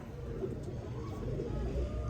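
Soft, low cooing from a slate-grey pigeon of a breeding pair kept by a pigeon fancier, a steady murmur with faint background hum, no talk over it.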